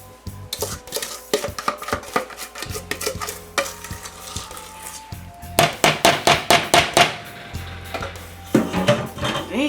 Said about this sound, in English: Make sure I scrape this bowl and get every little bit.